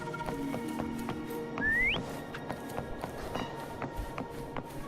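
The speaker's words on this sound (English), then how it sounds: "Why don't you call Foam over? Try whistling." A game character whistles a single rising note to call a companion in the video game Wuthering Waves, over a busy bed of soft footsteps and light ambient game sounds.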